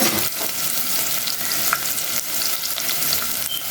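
Ginger, garlic and green chillies sizzle steadily in a hot pan while a utensil stirs and scrapes now and then, a continuous crackling hiss with no voices.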